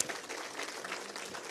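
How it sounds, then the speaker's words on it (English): An audience at an education day event applauds, steady dense clapping heard fairly faintly and at a distance, continuous through the short stretch. "give yourselves a big round of applause"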